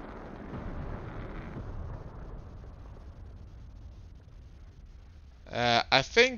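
Jet aircraft crashing into the ground in the DCS flight simulator, heard as a low rumbling roar that slowly fades, followed by a few seconds of speech.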